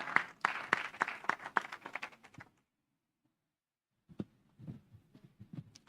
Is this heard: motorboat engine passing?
no